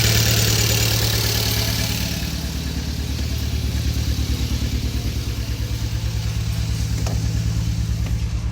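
A Hyundai Veloster Turbo engine idles close by, a steady rhythmic mid-pitched thrum that stays even and fairly quiet throughout, with no talking.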